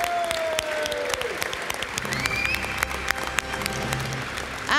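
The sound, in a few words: audience applause for the Peugeot team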